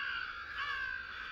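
Crows cawing in the open during a crow hunt, a steady run of harsh calls lasting just over a second at a moderate distance, with no voices.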